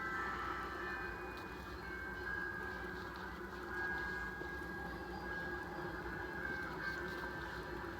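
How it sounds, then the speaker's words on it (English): A train passes through Rural Retreat, Virginia, a rural town, as a steady low rumble lasting the whole stretch, with a sustained horn-like tone running through it. "There's that train coming through Rural Retreat, Virginia."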